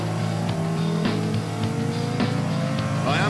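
A Porsche Carrera GT with its V10 engine on a track, a loud, continuous high-pitched howl that climbs and drops through gear changes as it accelerates and brakes.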